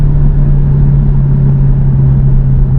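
A Porsche Cayman 718 with a flat-four turbo engine and an aftermarket turbo inlet accelerates with a steady, loud, close engine drone and a strong low hum throughout, with no voices.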